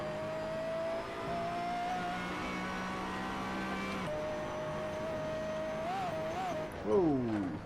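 A race car engine in Assetto Corsa, lapping the Nürburgring, holds a steady high drone at full throttle, with pitch shifts and a louder surge near the end as revs climb and drop.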